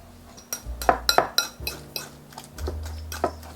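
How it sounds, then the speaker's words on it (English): Banana being mashed with a cheap fork in a bowl: a series of sharp metallic clinks and taps against the bowl in an uneven rhythm, close and fairly loud, with no talking. "mash the banana."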